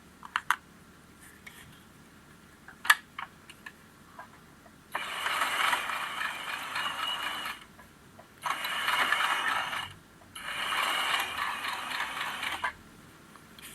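A sewing machine stitches zigzag along lace for a menstrual underwear project, running in three quick rattling bursts separated by short pauses, after a few soft clicks of handling the fabric.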